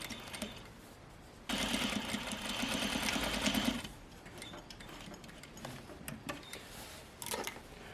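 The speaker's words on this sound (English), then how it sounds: "I'm going to sew that fold on the kick pleat like I just talked about." Sewing machine running a continuous burst of stitching along the fold of a skirt's kick pleat, loud and close, starting after a quiet pause and stopping abruptly, followed by lighter handling clicks and rustles.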